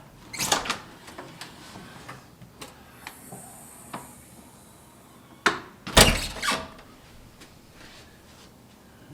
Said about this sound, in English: I'm going to push down the handle and open the door and then release.